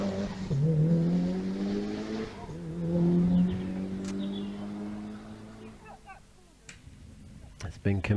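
A 2.5 litre Subaru Impreza hillclimb race car holds a loud, rising engine note at the start line of a hillclimb event, with a commentator speaking over it throughout.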